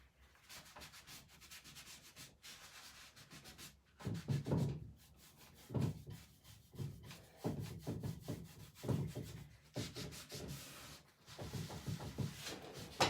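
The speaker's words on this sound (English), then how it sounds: "Just rubbing a bit back over the transfers where I went a bit heavy with the old mint julep" Paint sanded back by hand over transfers on a wooden boho-style chest painted in mint julep, a close, steady rasping rub in uneven strokes that swells louder at times, with a few brief knocks and no talking.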